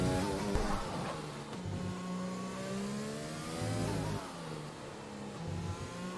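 An F1 car engine in a video game screams close and loud as it accelerates on a corner exit, stepping up through quick upshifts, its pitch climbing steadily between each change.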